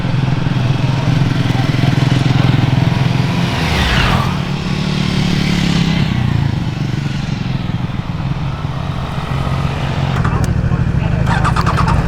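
A Triumph Daytona 660 motorcycle engine runs loud and close, revving up and pulling away with a rising then falling engine note, while a person talks over it.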